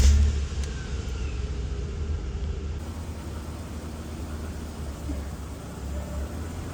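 A Holden VL Commodore engine fires up with a loud burst, then settles into a steady, close, low rumbling idle that carries on unchanged with no talking.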